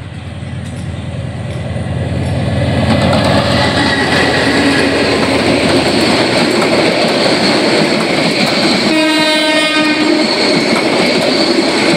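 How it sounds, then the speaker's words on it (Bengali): A train approaches and passes close by. Its rumble and clattering wheels build from quiet to a loud, sustained roar, and a long horn blast sounds in the later part. "ট্রেন চলে আসে, ট্রেন"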